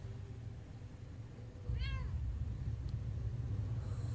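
A cat meows once in the Impostor Factory video game, a short clear falling call rising above a steady low rumble of background ambience.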